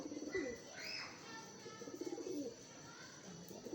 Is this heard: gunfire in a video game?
no